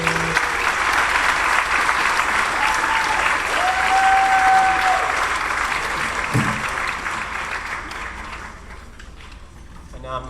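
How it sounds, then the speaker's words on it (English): An audience at an elementary school 4th and 5th grade band and string concert claps steadily and loudly, the applause thinning out toward the end with a few scattered claps. "All right, so now a round of applause,"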